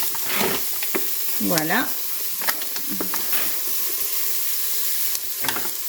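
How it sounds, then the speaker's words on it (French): A wooden spatula scrapes and stirs across a hot pan during deglazing, with sizzling and steam hissing close up, a few scraping strokes, and a brief spoken word. "je vais prendre une spatule en bois pour pouvoir déglacer et récupérer tous les sucres que vous voyez là"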